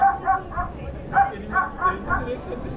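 A recorded dog bark plays from a coin-operated Bremen Town Musicians attraction in Bremen, Germany: a series of repeated electronic-sounding barks in a steady rhythm, close and fairly loud, with voices nearby.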